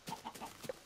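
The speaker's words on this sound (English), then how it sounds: "Chicken!" Chicken clucking in the Minecraft video game, four quick clucks in a short burst, faint and alone.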